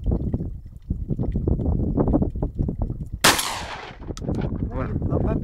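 A blank-firing gun goes off with one loud, sharp crack, followed by fainter clatter, amid people talking nearby.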